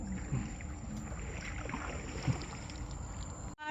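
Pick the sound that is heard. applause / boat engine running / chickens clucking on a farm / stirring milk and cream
boat engine running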